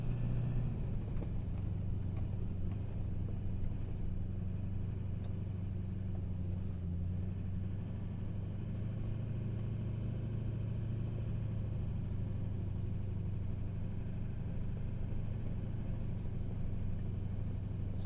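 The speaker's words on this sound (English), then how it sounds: "you get to drive right onto the sand" A car driving onto beach sand in California gives a steady low engine rumble throughout, close and continuous with no talk.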